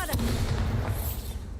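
A Bombarda blasting spell goes off in the Hogwarts Legacy video game, a loud, dense rumbling explosion sustained across the whole moment, with a sharp crack near the start.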